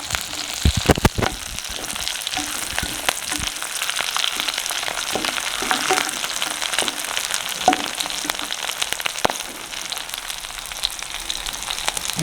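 Green chillies and garlic fry in oil for a village-style fenugreek kuzhambu, a continuous close crackling sizzle with scattered sharp pops and spits throughout.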